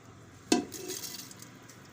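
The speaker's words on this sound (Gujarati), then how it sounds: "આપણે આ બધી દાળ આમાં નાખી દેવું।" Washed lentils (dal) tipped into a cooking pot while making bajra khichdi, a single sharp pouring clatter at the start followed by a short soft rustling settle, close and fairly quiet, no talk.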